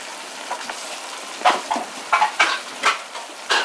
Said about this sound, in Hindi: इसमें 4 से 5 टेबलस्पून क्रीम डालेंगे। इन सबको अच्छी तरह मिक्स करेंगे थोड़ी देर।